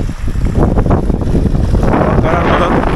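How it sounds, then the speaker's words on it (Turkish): Strong wind on a hilltop in Yeşil Ovacık beside a thin stream roars steadily across the microphone. The loud, constant buffeting rushes and gusts without a break. "Rüzgar fena."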